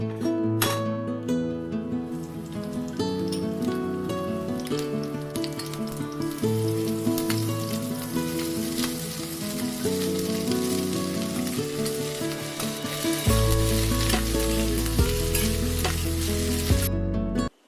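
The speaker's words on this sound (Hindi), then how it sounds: "सबसे पहले मैंने सब्जी छौंक दी है" Steady oily sizzling of okra tempering in a hot pan, continuous and close, with faint stirring and no talking.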